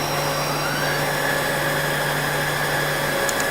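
Mazak CNC lathe spindle spinning at about 1,000 RPM, a steady, continuous machine hum with a constant whine, no speech.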